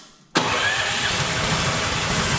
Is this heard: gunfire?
no